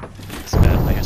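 A grenade blast in Apex Legends lands midway, a sudden loud low boom that follows a quieter stretch and then rumbles on until the end.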